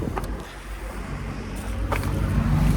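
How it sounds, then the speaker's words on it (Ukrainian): A 2019 Peugeot 308 SW 1.5 BlueHDi diesel engine starts and its low rumble builds steadily toward the end, with some wind-like noise around it. "запустимо двигун."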